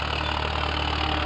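A Farmtrac 6050 4x4 tractor engine idles steadily and close, a continuous low rumble with a constant hum and no change in pace.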